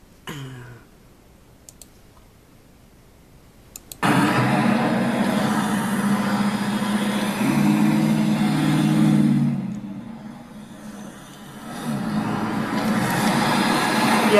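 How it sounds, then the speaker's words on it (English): Steady traffic noise rumbles past, a dense roar of passing vehicles that swells and fades after a quiet start marked by a few clicks. "The traffic noise."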